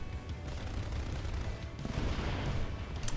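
Rapid bursts of cannon fire from a jet aircraft in War Thunder, a dense rattling barrage over a constant engine roar, moderately loud.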